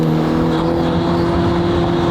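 A car accelerates hard and shifts gears quickly, its loud engine roaring with a strong droning tone that stays close and continuous through the short stretch, with no voices.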